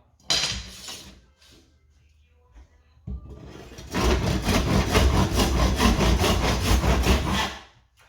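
A hand saw cuts wood boards to length for budget kitchen doors, with a few short scraping strokes first, then a sustained run of quick, rhythmic rasping strokes close by.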